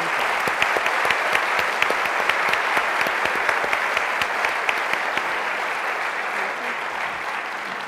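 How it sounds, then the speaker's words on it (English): Sustained audience applause for a panel at a Notre Dame forum, dense and steady clapping filling the room at close range for the whole stretch, fading slightly toward the end. "Let's please give them a round of applause."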